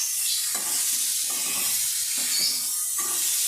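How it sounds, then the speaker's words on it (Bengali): Bitter gourd and red lentils fry in a pan, giving a soft steady sizzle and hiss broken by repeated scraping stirs, quiet and close. "উচ্ছে আর মুসুর ডাল একসঙ্গে করে খুব ভালো করে একটু আমি ভেজে নেবো"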